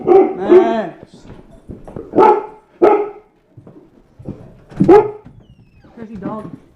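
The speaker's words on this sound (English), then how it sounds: "Crazy dog." A dog barks in short, loud bursts spread across several seconds, mixed with a person talking nearby.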